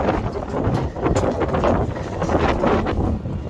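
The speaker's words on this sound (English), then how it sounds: "Can y'all hear the wind?" Wind blows hard outdoors, buffeting the microphone with steady rushing noise and gusty surges throughout, close and fairly loud with no one speaking.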